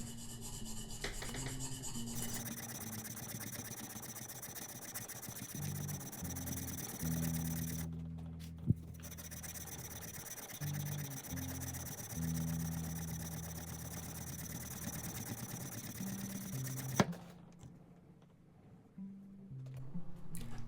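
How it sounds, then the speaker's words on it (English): Dremel rotary tool buffing the frets of a vintage Supro Pocket short-scale bass guitar, a steady high-pitched motor whine with pitch shifts and brief stops as it works along the frets. "the final buff, which I like to do with the Dremel"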